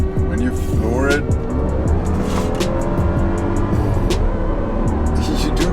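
An Audi Q7 S-Line SUV pulls hard at full throttle, engine climbing through rising revs with a gear change, loud and close from inside the cabin, while someone talks over it.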